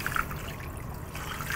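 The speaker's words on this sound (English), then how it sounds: "So, pour the water in," Water poured into a stock pot over blanched bones, a steady soft trickling stream heard close and alone, with no talk.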